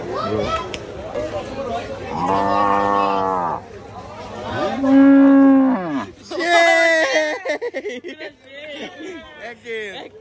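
Loud, drawn-out lowing from water buffalo, several calls in a row, with crowd noise and voices around them at the Jinjira cattle market before Qurbani Eid.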